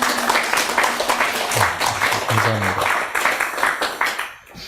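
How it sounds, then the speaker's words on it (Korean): Audience applause at a church gathering, welcoming a guest's wife, with a dense broadband wash of many hands clapping steadily. Musical tones rise underneath midway, and the clapping trails off near the end. "우리 사모님 환영하는 또 박수 부탁드립니다"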